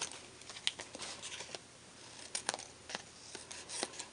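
Scissors snip and trim scraps of embossed vanilla card, a series of faint, close, irregular cutting and rustling sounds with small sharp clicks.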